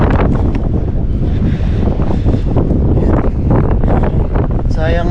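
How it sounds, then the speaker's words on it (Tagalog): Strong wind roars and buffets loudly against the microphone throughout, with rough, gusty rumbling and no clear speech. "Ay, lakas na hangin."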